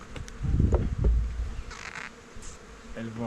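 Honeybees buzz loudly and close at a beehive in December after being shaken off the top of the frames, a dense droning hum that swells and then thins as the bees return inside.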